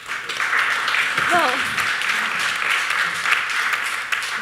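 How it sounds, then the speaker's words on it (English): An audience clapping at a community meeting, a steady, moderately loud spread of many hands, with a voice speaking briefly over it partway through. "thank you for clapping"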